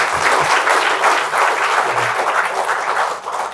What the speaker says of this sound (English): a huge round of applause for Dinesh.